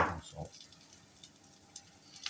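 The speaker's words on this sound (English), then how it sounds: "carry on frying this until it starts to go crispy and starts sticking together a little bit more" Spiced chickpea and potato hash frying in butter in a pan, a soft steady sizzle with a brief stir or clatter near the start and faint crackles throughout, no talking.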